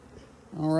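Honeybees buzz during a hive inspection. The hum starts faint, then swells into a close, rising drone over the last moments of a very short stretch.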